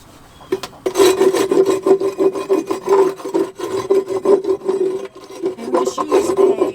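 Repeated rough rasping scrapes inside a wooden chicken coop nesting box, loud and close, coming in back-and-forth strokes with short pauses between them and no voices.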